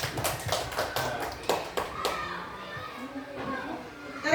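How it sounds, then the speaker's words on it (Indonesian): A burst of clapping from a school audience during a classroom dissemination session on positive culture, loud and scattered over the first two seconds, then fading as a voice talks on. "Tepuk tangan untuk Bu Reni."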